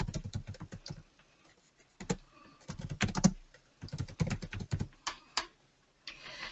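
Typing on a computer keyboard while entering a notice on a school dashboard: bursts of quick, close keystrokes separated by short pauses, with no talking.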